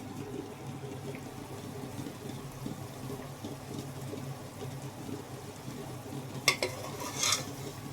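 Washed mint and coriander leaves for chicken biryani frying and being stirred in a pot: a quiet, steady low sizzle with soft stirring scrapes and a couple of brief sharper clatters near the end.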